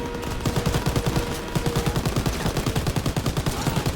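Rapid machine gun fire in a Call of Duty WWII battle during the liberation of Paris, sustained bursts of fast, evenly spaced shots over a dense noisy battlefield backdrop, loud and continuous with a brief pause early on.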